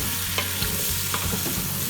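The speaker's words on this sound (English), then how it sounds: "saute this for" Potatoes and vegetables sautéing over high heat in a pan for a beef pot roast, a dense, continuous sizzle up close with light stirring sounds and a low hum underneath.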